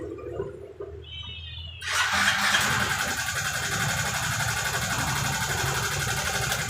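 A Yamaha Mio Soul 125 scooter engine cranks after a quiet moment, catches and settles into a steady, close, loud idle that runs to the end.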